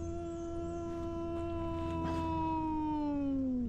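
A single long, mournful canine howl at night in the New Jersey Pine Barrens, a steady tone that slowly falls in pitch and swells slightly louder toward the end, heard alone against low background hum.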